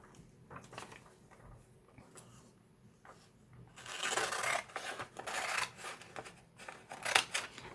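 Scissors cutting images out of magazine pages, close and quiet, with short snips at first and then longer, louder rasping cuts through the paper.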